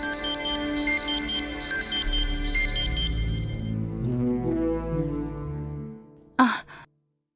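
A melodic electronic ringtone plays a repeating tune for several seconds, then cuts off with a short sharp click.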